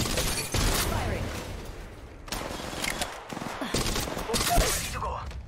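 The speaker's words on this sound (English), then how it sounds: "Firing!" Rapid gunfire crackles in Apex Legends Mobile, bursts of shots and impacts repeating across the scene with game voice lines speaking in between.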